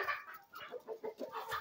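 Roosters raised as breeding stock cluck in a short series of close, rhythmic calls, several bursts spaced closely one after another, fairly quiet overall, with no talking.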